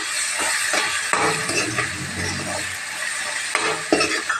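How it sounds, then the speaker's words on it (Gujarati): Dal being stirred with turmeric, coriander-cumin powder, red chili and salt in a pot, a steady scraping, sizzling hiss with occasional clinks of the spoon against the metal pot. "વ્યવસ્થિત રીતે મિક્સ કરી"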